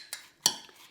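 A spoon clinks twice against a container while stirring apple cinnamon bulgur overnight oats, giving two short, close metallic taps about a third of a second apart, then a faint scrape.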